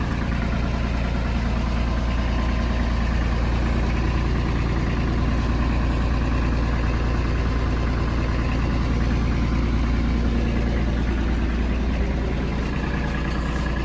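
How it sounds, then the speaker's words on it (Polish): A 2012 Hyundai 27Z-9 mini excavator with a roughly 23.5 kW Mitsubishi three-cylinder diesel idles up close, a loud, steady low chugging rumble that runs evenly for the whole stretch. "3-cylindrowy diesla Mitsubishi"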